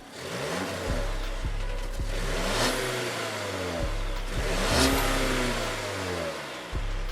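A 2023 Volvo V60 Cross Country with a turbocharged 2-liter four-cylinder runs steadily and close by, its smooth low hum holding through the clip with a few soft rev swells and no voices.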